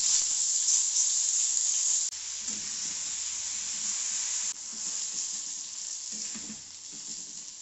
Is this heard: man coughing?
no